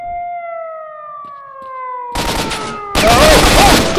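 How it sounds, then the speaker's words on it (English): Gunfire in the PC shooter S.T.A.L.K.E.R. Shadow of Chernobyl: two loud dense bursts of shots, the second heavier, cutting in over a sustained electronic siren-like drone and tones. "now we just gotta shoot our way out"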